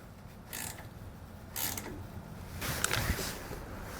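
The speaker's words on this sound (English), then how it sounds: "I am going to go ahead and tighten our ground wire here, just so when we go to test, it's not going to be one of our issues" Ratchet with an 11mm socket tightening a trailer ground wire, giving a few short, close clicking and creaking bursts at separate moments with quiet shop background between them.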